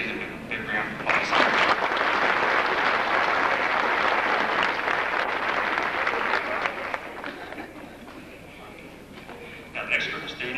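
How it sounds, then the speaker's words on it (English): A school Christmas concert audience applauds steadily after a middle school band performance, the clapping dense and loud before thinning out toward the end. "Let's give them a big round of applause."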